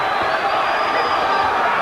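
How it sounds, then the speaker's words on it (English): A boxing arena crowd roars continuously during a fight between Jose Antonio Rivera and Alejandro Garcia, a dense, steady wall of cheering that stays loud and unbroken throughout. "The crowd on his feet."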